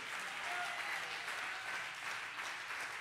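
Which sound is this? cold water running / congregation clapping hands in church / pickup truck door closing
congregation clapping hands in church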